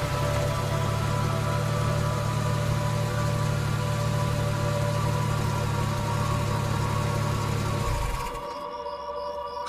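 A car engine idles at a steady, loud, continuous rumble at a roadside stop at night. The idle cuts off near the end, leaving a quieter hiss.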